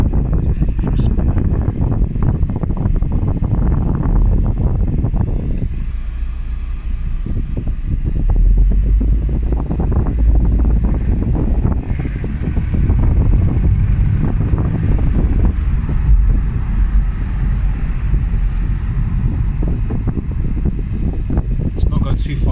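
A Mercedes W124 E220 Coupe, midway through restoration, driving along with a continuous loud engine and road drone, wind rushing across the microphone and the cabin tone shifting as it moves.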